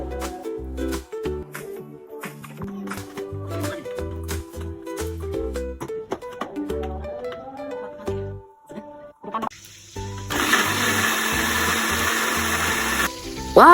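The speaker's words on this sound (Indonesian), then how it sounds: "Jadinya Bunda bakal buka lagi ini dan ganti sama blender yang biasa" Electric blender whirring loudly for a few seconds near the end, after a stretch of music, while spices are being ground to a paste for fried chicken in a home kitchen.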